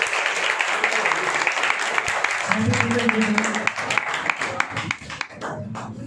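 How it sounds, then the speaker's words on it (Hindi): An audience at a Teachers' Day student program applauds to welcome a teacher, a dense patter of clapping under a speaker's amplified voice that swells and then tapers off. "अब लोग सर का स्वागत कीजिए तालियों के साथ।"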